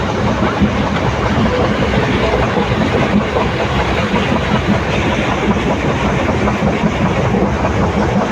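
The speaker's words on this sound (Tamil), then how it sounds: "ட்ரெயின் குலுங்கி குலுங்கி போகுதுங்க" Continuous loud rattling and rumbling of a moving train between Coimbatore and Ottapalam, steady clatter of wheels and carriages with no pauses, heard from inside.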